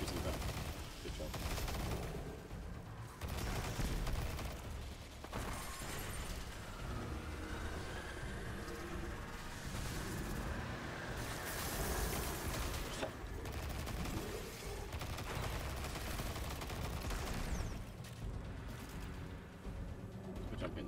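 Repeated bursts of Destiny 2 weapon fire crackle at moderate volume in the Witch Queen campaign, layered over a dense, rumbling game soundscape with intermittent talk.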